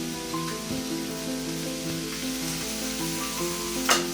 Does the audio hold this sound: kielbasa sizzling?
yes